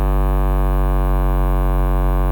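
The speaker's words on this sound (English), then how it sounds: "We've essentially created a bass," A layered synth bass made of a low-mid patch stacked on a pure sine-wave sub holds one loud, steady note for about two seconds, with a deep hum beneath a buzzy upper layer, alone and close.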